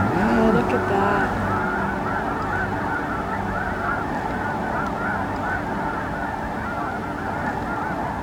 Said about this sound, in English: That was just solid geese